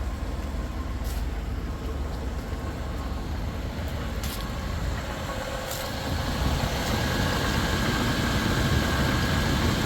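A Chevrolet Impala engine idling smoothly under the hood, a steady low rumble held at an even level with a few faint ticks, no voices.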